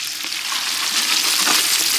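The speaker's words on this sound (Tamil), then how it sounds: "ஃப்ரெஷ்ஷாக பறிச்ச கருவேப்பிலை போட்டுக்கலாம். வரமிளகாய் போட்டுக்கலாம்." Fresh curry leaves and dried red chillies fry in hot oil with a loud, continuous crackling sizzle that swells slightly, close and alone with no voices.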